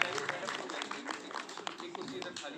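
An audience at a book launch event applauds to welcome the poet Ashok Chakradhar: a dense, soft and steady patter of many hands clapping, with voices underneath.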